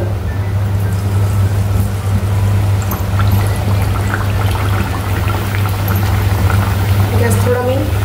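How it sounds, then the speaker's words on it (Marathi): Sweet Indian oil bhakri flatbread fries in hot oil over a gas flame turned a little above medium, giving a steady, close bubbling sizzle under a low constant hum. "तर मी तुम्हाला तळून दाखवते"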